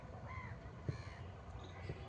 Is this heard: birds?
yes